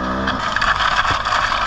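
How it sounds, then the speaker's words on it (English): A brand-new 2024 Beta 300 RR Race Edition two-stroke dirt bike buzzes under a rider on rough terrain, a loud, continuous engine drone with wind noise and brief scraping, no talking. "Loving this brand new 2024 Beta 300 RR race."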